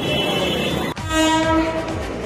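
Train at a station sounds its horn, a loud sustained tonal blast starting abruptly about a second in over a constant rumble of rail noise, no talk.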